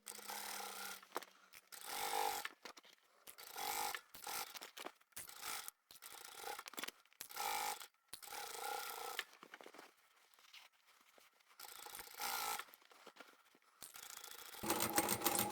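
A sewing machine runs in repeated bursts of rapid stitching on the side seams of a fabric box, with short pauses and fabric handling between runs, close and fairly loud.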